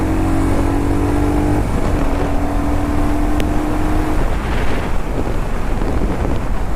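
A KTM Duke motorcycle engine runs steadily close by, with a droning hum and gusts of wind buffeting the microphone throughout.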